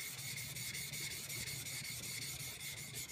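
A steel chisel back is rubbed flat on a wet sharpening stone in steady back-and-forth strokes, a continuous close, gritty scraping with a regular rhythm, heard alone.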